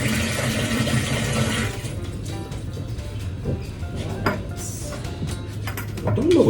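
Water runs and fills into a washing machine in a home in Puerto Plata, a close rushing flow that cuts off partway, followed by clunks and handling noises under a few spoken words.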